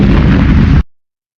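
A bomb explosion sound effect used in a prank, a single loud, dense blast lasting almost a second that cuts off abruptly into silence.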